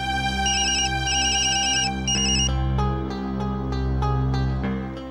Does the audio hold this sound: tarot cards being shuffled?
no